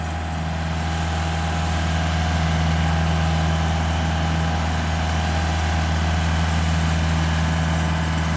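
A heavy tractor engine idles and rumbles steadily at close range while plowing a rice paddy, a low continuous drone with no voices.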